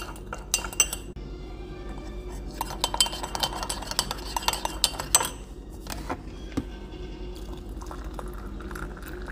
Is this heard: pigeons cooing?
no